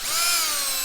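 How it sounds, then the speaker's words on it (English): A power drill boring through a fabric strap, a loud, steady high-pitched motor whine that sags slightly in pitch under load for under a second. "You ever seen a guy drill through a rope before?"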